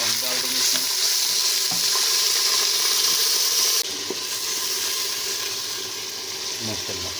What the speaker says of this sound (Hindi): थोड़ा सा पानी डाल देंगे इसमें।